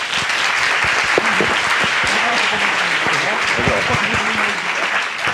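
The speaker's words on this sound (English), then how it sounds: "Big round of applause, and then." Audience applause after a startup pitch session at a biosensor pitch event, sustained steady clapping lasting throughout, with a voice talking faintly beneath it.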